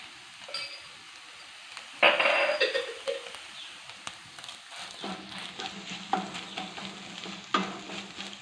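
Upma with egg and turmeric powder is stirred in a pan: quiet sizzling with scraping spatula strokes and occasional clinks against the pan, growing busier partway through.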